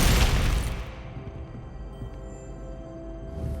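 A Glacius ice spell cast in Hogwarts Legacy: a single loud, bright burst that fades over about a second into a low, steady hum.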